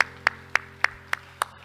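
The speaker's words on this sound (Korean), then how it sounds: "우리 하나님께 영광을 박수합시다." A church congregation claps in unison during a worship service, six evenly spaced sharp claps over a soft background hum.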